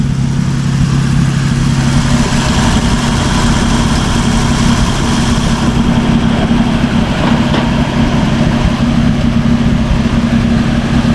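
A 1950 Dodge Meadowbrook engine idling steadily with a slight oil leak and some blow-by, a loud, continuous low rumble close to the microphone with no talk over it.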